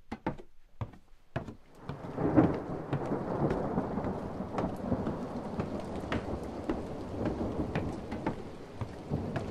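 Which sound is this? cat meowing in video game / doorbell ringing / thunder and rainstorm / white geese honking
thunder and rainstorm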